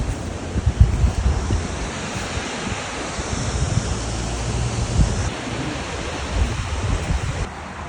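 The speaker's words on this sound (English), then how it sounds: "it started pouring a little bit" Heavy rain pouring down at a waterfall in Georgia, a steady, dense wash of broadband noise that runs loud and unbroken, with rumbling low gusts and no voices.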